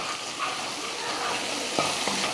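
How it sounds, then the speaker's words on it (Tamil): Tomato masala with chilli, coriander and garam masala powders sautéing in a pan: a steady, close sizzle of frying with a few soft stirring scrapes and no talking. "இப்போ இதையும் சேர்த்து நல்லா வதக்கிடுவோம்"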